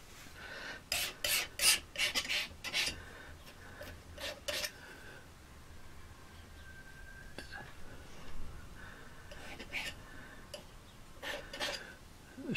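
A palette knife scrapes and rasps across a paint palette while painting a beach scene, giving short quiet bursts of scraping in irregular clusters with soft pauses between.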